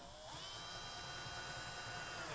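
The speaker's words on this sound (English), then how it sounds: "So I'm going to drill this rear one first." A power drill bores a hole for a rear diffuser on a VW MK7.5 GLI, a steady high-pitched whine that ramps up at the start and holds loud and close without talk.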